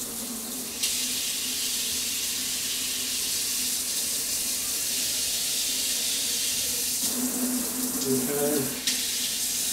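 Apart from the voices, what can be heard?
kitchen sink faucet running water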